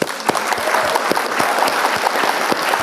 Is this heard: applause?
yes